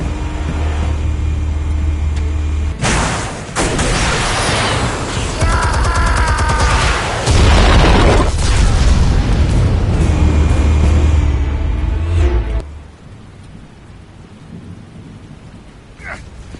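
Explosives detonate in Batman: The Telltale Series, a loud sustained rumbling blast with roaring debris and crackling, swelling over about ten seconds before cutting off to a quieter low hum.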